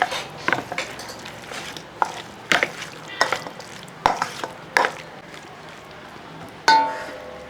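Soy sauce stirred into chicken manchurian in a pan: a spoon clanks and scrapes against the metal in a series of sharp knocks about once a second, over a faint background sizzle, with no talking.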